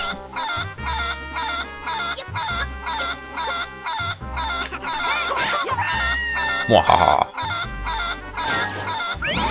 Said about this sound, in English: Hey look, cuckoos! These cuckoos do not like us.